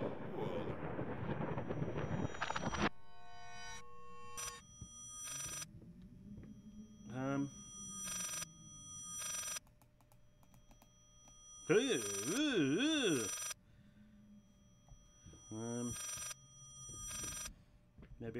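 A telephone rings inside the eerie house of the horror game Layers of Fear, repeated ring bursts standing out over a low ambient hum, with warbling tones and a brief noisy burst at the start; no speech over it.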